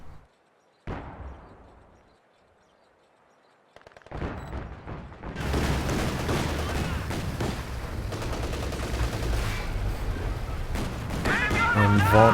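Tank gunfire in a video game match as a tank destroys an anti-tank gun, a sharp shot, a lull, then dense sustained rumbling fire and explosions under an excited commentator.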